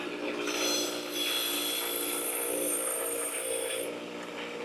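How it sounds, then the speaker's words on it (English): Bench grinder working a rusty part, a continuous close abrasive grinding rasp with a steady high whine that shifts slightly in pitch as pressure changes. "This is the only thing that sucks with this bench grinder"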